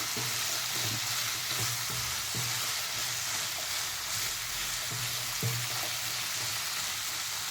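Potatoes fry gently in a pan over low heat for a dosa filling, a steady sizzle broken by repeated scraping stirs of a spatula.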